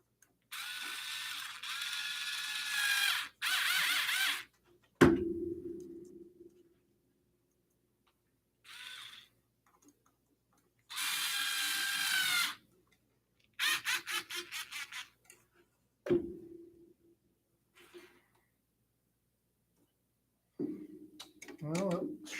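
A nut driver tightens a nut during assembly of a Prusa i3 MK3S+ 3D printer, giving short bursts of quick ratcheting clicks separated by quiet gaps, with whirring mechanical passages in between.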